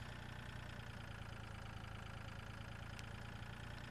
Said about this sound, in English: If my tractor will get up there.